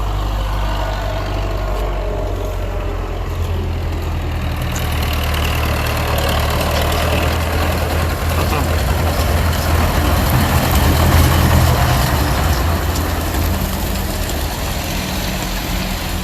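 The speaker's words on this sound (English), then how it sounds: "So there was a tractor coming by and hauling some hay." A tractor hauling hay rumbles past with a steady low engine drone that swells gradually, heard from outdoors at a moderate distance.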